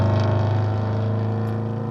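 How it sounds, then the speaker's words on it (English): Continuous engine and road rumble from passing traffic near a commercial building job site, steady and moderately loud throughout with a low droning hum and no talking. "Sorry for the traffic noise."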